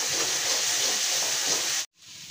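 Spice paste sizzles loudly and evenly in hot oil for about two seconds, a close, dense hiss that cuts off abruptly near the end, with quieter hissing after.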